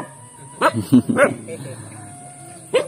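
A dog in Kampung Cigumentong Indah, a remote village, gives three short sharp barks in quick succession, then one more after a pause, over a faint steady background hiss.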